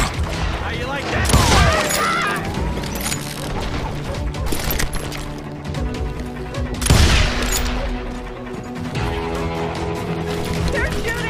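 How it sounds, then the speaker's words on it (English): Gunfire from a street shootout in the Western video game Call of Juarez Gunslinger, with bursts of shots and booming impacts over a steady mix, and loud peaks near the start and middle. "They're shooting in the street!"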